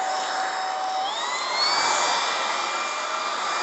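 A VOVGUU 28KPA cordless stick vacuum cleaner runs with a steady, loud motor whine, its pitch shifting up partway through as the suction changes, with no voices.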